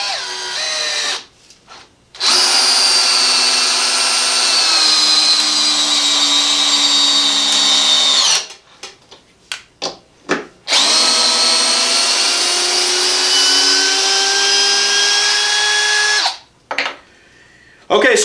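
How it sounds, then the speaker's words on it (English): A Craftsman 20V brushless cordless drill driver whines driving a fastener in long sustained runs with short stuttering bursts and pauses between, loud and close, no voices. "Our intentions is that we can drill this all the way down"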